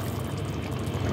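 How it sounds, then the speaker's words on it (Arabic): Water is poured from cups into a pot of okra and meat stew on the stove, giving a close, steady splashing pour mixed with sizzling, without speech. "هنزل بكوبايتين كده اهوت ميه"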